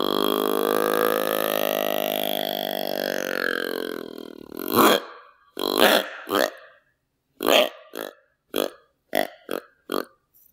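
A handheld deer call imitates a buck's breeding grunts: a long drawn-out grunting tone followed by a string of short, clipped grunts in an uneven rhythm, close and clear with no talking.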